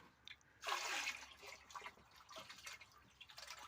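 Liquid fertilizer solution poured by hand onto pepper plants, a close splash and trickle that swells in after a brief pause, then tapers into scattered drips and dribbles.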